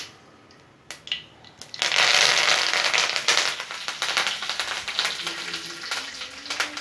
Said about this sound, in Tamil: கடுகு லைட்டாக பொரியட்டும். கடுகு பொரிஞ்சதும் கருவேப்பிலையை போட்டுடலாம்.